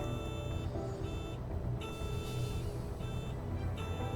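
A steady, repeating electronic warning beep in a flight simulator game pulses in regular tones over a constant low engine drone.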